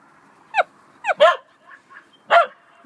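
A dog gives four sharp, close barks and yips in an irregular rhythm, with soft whimpering sounds between them.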